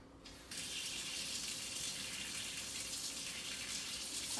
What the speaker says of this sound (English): we're gonna put a little warm water in this bowl